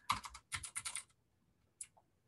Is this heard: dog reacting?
no